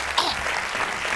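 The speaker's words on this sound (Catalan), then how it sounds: "Un aplaudiment, si us plau, per Dolors Vallabriga." Studio audience applause on a Catalan evening talk show greeting an arriving guest, a dense burst of clapping filling the short moment, loud and close.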